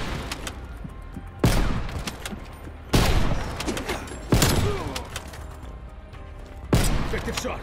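Gunfire in Call of Duty Black Ops Cold War: four heavy, separate shots or blasts land at irregular intervals, each with a sharp onset and a long fading tail, over a low battlefield din.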